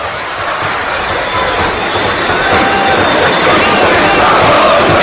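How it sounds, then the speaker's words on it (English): Steady, dense roar of a football stadium crowd at an Armenia versus Wales match, continuous babble and chanting from the far side filling the air without letup. "Crowd making a bit of noise on the far side"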